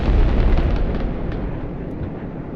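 A heavy artillery shell explodes in the video game Broken Arrow, a loud close boom that rolls into a long, fading rumble, heard alone.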